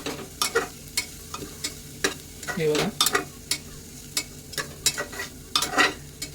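Spices frying in a pan for ghevda bhaji are stirred with a utensil, giving sharp, repeated scraping strokes over a low, constant sizzle; a voice speaks briefly.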